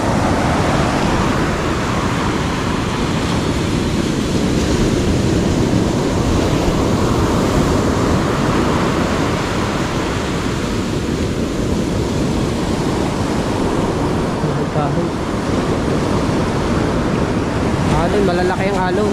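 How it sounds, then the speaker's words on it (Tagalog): Big ocean waves crash onto a shore ahead of an approaching typhoon, a continuous dense roar of surf and wind that fills the whole stretch without a pause. "Alon, malalaki ang alon."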